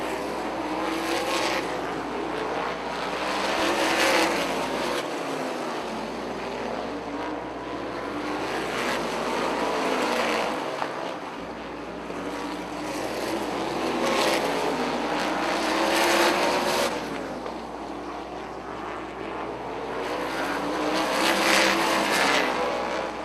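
Sprint race cars roar down the front stretch into turn one at an Xtream Sprints event at Rockford, a continuous loud engine drone swelling and fading as the top three pass, with no talk over it.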